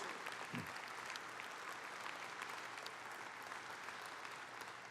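Convention audience of union members applauding their former CWA president, Chris Shelton, in a large hall; steady sustained clapping fills the whole stretch at a moderate distance, with no voices over it.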